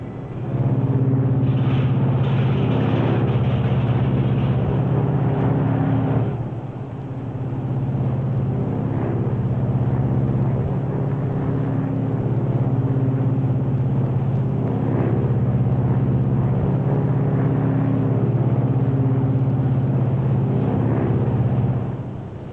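Engine number 1 of a Lockheed Super Constellation airliner is unfeathered in flight, and a loud, steady, low propeller-engine drone fills the cabin with a slight change in tone partway through.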